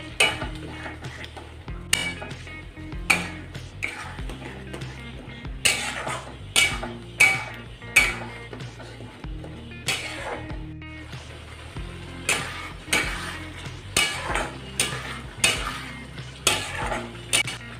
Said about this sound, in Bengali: এরপরে এই মশলাটা ভালো করে আগে কষে নেব।